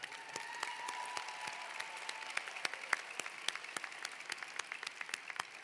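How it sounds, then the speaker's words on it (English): Graduates at a spring commencement ceremony applaud their faculty, a steady wash of clapping from a large seated crowd, with distinct sharp claps standing out, moderately distant and holding even throughout. "To the graduates, I say please show your thanks and applaud these dedicated individuals"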